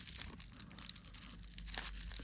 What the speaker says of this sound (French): j'y vais avec les ciseaux plutôt qu'avec le cutter